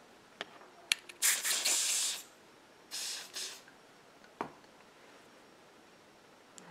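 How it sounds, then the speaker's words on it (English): A spray bottle misting hair during a close, quiet haircut and scalp massage role play: two soft, hissing bursts, each lasting about a second, with faint clicks and rustles between them. "don't need too much of the spray because it's very strong"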